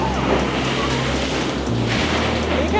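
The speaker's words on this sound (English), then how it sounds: "And here comes a wave." Ocean surf washing in against a rocky coastline along the Eyre Peninsula west coast, a steady broad roar of breaking water with wind rumble, continuous and fairly loud throughout.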